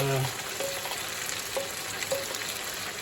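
Chopped onion sizzling steadily in a hot pan where beef has just been seared, a continuous close fry with a few faint tonal clinks, no voices.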